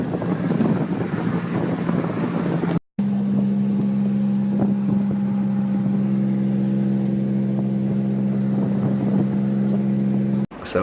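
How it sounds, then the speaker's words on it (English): Engine drone of a tuk-tuk carrying riders clinging to the back, a steady low hum with constant wind buffeting the microphone, loud and continuous apart from two brief dropouts. "we had to ride the tuk-tuk home"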